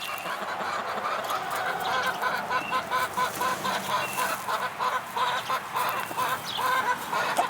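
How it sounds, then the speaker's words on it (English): A flock of hens with a rooster clucks and calls steadily on a farm in the morning, a dense, close chorus of overlapping bird sounds with no talking. "Anyway, that's our hens. A rooster."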